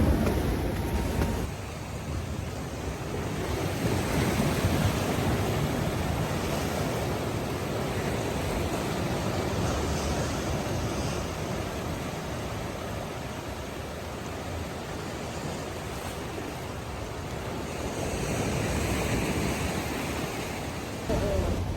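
Ocean surf at Laguna Beach rolls in as a continuous, broad wash of breaking waves, loud and close, mixed with wind buffeting the microphone and a faint passing car.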